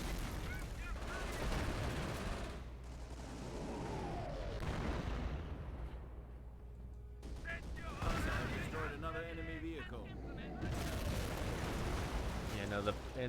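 MG42 machine gun firing in Company of Heroes, rapid bursts mixed with other gunfire and explosions in a dense, loud battle din, with people talking over it throughout.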